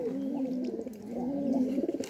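Pigeons coo in low, rolling, repeated calls close by, two drawn-out phrases with a short pause between, heard alone without talk.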